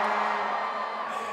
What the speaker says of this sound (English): Honestly, I think you would cheer for anything.